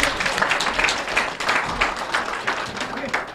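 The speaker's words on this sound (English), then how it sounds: "Make one a clap." A gathering of people clapping together, uneven bursts of hand claps rising and falling in waves, fairly close, with some voices mixed in beneath.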